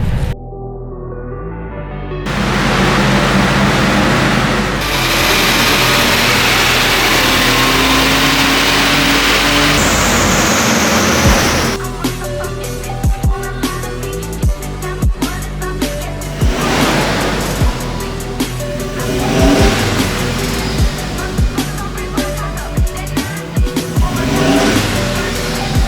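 A Toyota Innova diesel engine revs hard on a dyno, its loud roar climbing through repeated accelerations and easing off between pulls, with sharp bursts and a steady mechanical drone close by.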